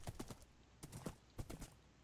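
Quick clip-clop hoofbeats from a horse in the Minecraft video game, a few soft, close steps in short clusters, faint and alone.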